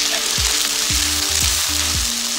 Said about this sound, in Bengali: এখন সসটা ঢেলে দিলাম,